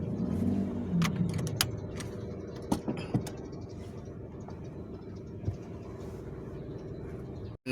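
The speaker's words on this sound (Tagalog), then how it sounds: "Start na natin yung kotse." A car idling low and steady in a quiet setting, with several sharp clicks and knocks from doors or keys, then a faint rise as it pulls away and a sudden break at the end.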